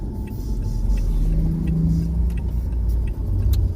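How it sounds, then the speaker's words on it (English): A car driving through the Phoenix area, heard from inside as a steady low engine and road rumble with slight rises in revving, fairly loud and continuous, no voices. "Always a good time driving in the Phoenix area."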